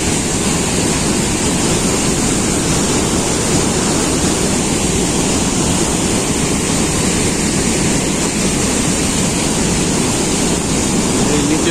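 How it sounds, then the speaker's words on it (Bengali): Niagara Falls roars steadily as viewed from Goat Island, a loud, unbroken broadband rush of falling water with no letup, close and overwhelming, with faint voices barely present beneath it. "নায়াগড়া জল পড়ছে।"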